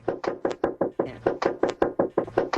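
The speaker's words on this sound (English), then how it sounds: "a knock on her door caught on camera" Rapid, loud knocking on a house door, about a dozen sharp raps in quick uneven bursts, close and alone with no talk.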